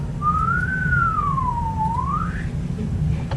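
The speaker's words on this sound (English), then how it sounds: "Whistling is good." One person whistles a single smooth, wavering note into a laptop microphone, gliding up, down and back up for about two seconds over a steady low room hum.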